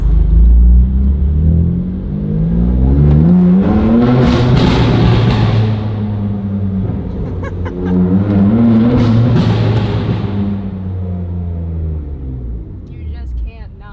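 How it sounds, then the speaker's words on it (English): A BMW M2 Competition's exhaust revs hard in two long, loud, raspy pulls, rising and falling close by with a deep rumble underneath. "This is the last final moments of the exhaust and the raspiness."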